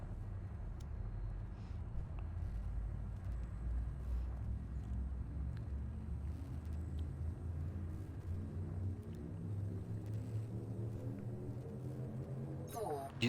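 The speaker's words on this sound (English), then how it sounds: "Frameshift drive charging." An Elite: Dangerous spaceship's frameshift drive charging, a deep engine rumble whose tone climbs steadily higher as it builds, ending in a sharp burst; a voice speaks over it.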